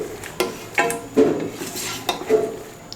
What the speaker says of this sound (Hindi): अब इसको अच्छे से मिक्स कर लेंगे दोबारा।